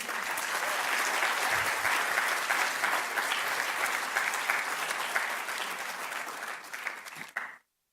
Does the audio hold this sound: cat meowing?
no